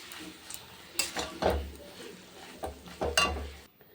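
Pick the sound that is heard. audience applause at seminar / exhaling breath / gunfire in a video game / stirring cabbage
stirring cabbage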